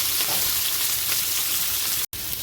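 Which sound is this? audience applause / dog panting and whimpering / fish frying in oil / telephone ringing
fish frying in oil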